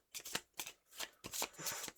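A deck of cards for the survival board game After The Virus being shuffled close up, several quick riffle bursts in a row with brief gaps, crisp and papery, with no talking.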